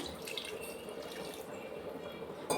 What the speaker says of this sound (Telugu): ఇప్పుడు మన గ్రేవీకి కావాల్సిన వాటర్ అయితే పోసుకోవాలి దీంట్లో